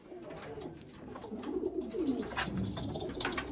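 A pair of pure white Sialkoti pigeons cooing close by, soft low rolling coos that swell in the middle, with someone speaking faintly underneath.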